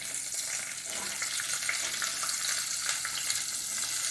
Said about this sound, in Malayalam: നമുക്കിനി നമ്മൾ അരിഞ്ഞു വെച്ച കൊടമ്പളി കഷ്ണങ്ങൾ ഇട്ട് കൊടുക്കാം